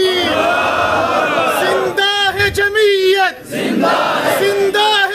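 A large crowd at a political rally for Maulana Fazal ur Rehman roars a slogan in unison, answering a takbir call with loud, sustained, overlapping shouting that dips briefly midway before surging again.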